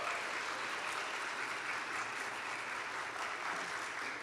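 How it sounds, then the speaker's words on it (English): Sustained audience applause for Christian scholars in the performing arts at an end-of-year convocation, a dense, steady wash of many hands clapping that stays loud and even throughout. "one more round of applause for our Christian scholars in the performing arts"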